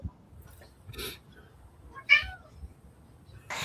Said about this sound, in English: hear a cat